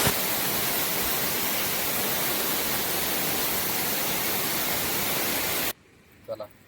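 Waterfall at Asniye village, a loud, steady, broad rush of falling water that fills nearly all of the sound, then cuts off abruptly near the end, leaving quiet and a brief voice.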